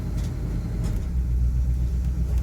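A 1985 Dodge W150 pickup's engine runs at fast idle, a steady, loud low rumble that holds even throughout without any talk over it.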